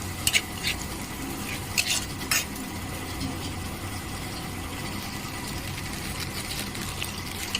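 A utensil stirs and scrapes in a pan while masala Maggi is cooked, giving a few sharp clinks near the start over a steady, low cooking hiss that runs throughout.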